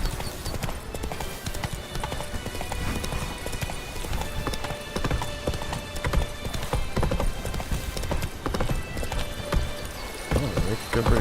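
Geralt's horse Roach galloping in The Witcher 3, a steady rapid clip-clop of hooves running throughout over dense game music and ambience, with a brief whinny in the mix.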